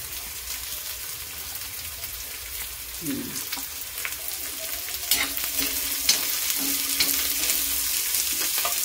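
Chopped onions sizzle and fry steadily in a pan for a shrimp and potato dish, with occasional stirring scrapes and a soft, continuous crackle throughout.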